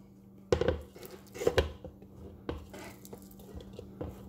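Cut pineapple pieces dropped into a bowl while making Christmas cookies, a few soft wet thuds and clacks spaced about a second apart, close and fairly quiet, with no talking.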